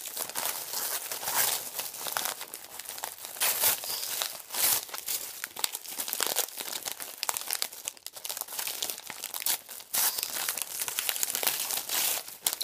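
Polka-dot gift wrapping paper with polka-dot tape crinkles and tears continuously as a present is unwrapped, a close, busy rustling with sharp crackles throughout and no talk.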